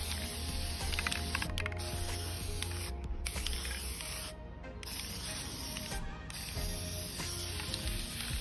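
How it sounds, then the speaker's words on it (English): Color Palette spray paint hisses from a can onto a frame in a few sustained bursts separated by short pauses, close and steady. "adding one thin layer of Color Palette spray paint to my frame"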